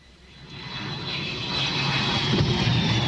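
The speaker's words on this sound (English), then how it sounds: "What you've just heard was not an actual plane landing. It was a flight simulator at American Airlines Training Center." Flight simulator at the American Airlines Training Center reproducing a plane landing: a steady jet engine roar with a rising whine, growing louder and rumbling heavier as the simulated aircraft comes in, with no voices.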